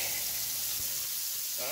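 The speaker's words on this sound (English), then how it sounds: "if you're new to frying pork chops, right, getting them brown like that, go ahead and don't hesitate to lower your heat if you think it's getting too hot" Pork chops fry in a pan on an electric stove, giving a steady, dense sizzle that hisses continuously and loudly at close range.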